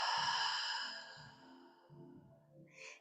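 A slow, soft exhaled breath during a hatha yoga flow, faint and close, easing off over a few seconds with no talking.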